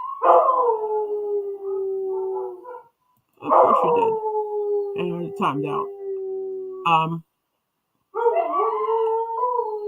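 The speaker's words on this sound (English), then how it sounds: "my dogs are howling because I believe the kids are home" Several dogs howl in long, wavering drawn-out notes, close and loud, in bursts separated by short silences, with a person speaking between and over the howls.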